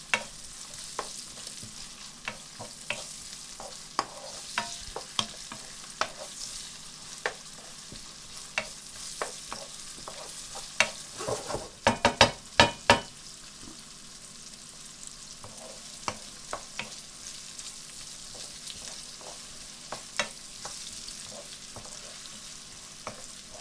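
A vegetable curry cooks in a pan with a soft, continuous sizzle broken by scattered scrapes of stirring, which build into a brief, busier burst midway before settling again.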